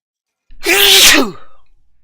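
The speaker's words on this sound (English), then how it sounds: "Wait, I gotta sneeze, I think." A single loud, close sneeze, a sharp breathy burst that trails off quickly.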